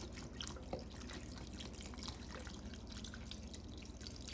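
Water pouring from a tap into a pot of oxtails and beef broth, a faint steady trickle with light dripping and splashing, heard alone without talk.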